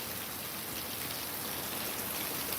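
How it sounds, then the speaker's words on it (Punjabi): Steady, dense rain pouring down, a continuous close hiss of drops hitting surfaces with no pauses, no voices. "ਦੇਖੋ ਕਿੰਨਾ ਮੀਂਹ ਬਾਰਸ ਹੋ ਰਹੀ ਹੈ"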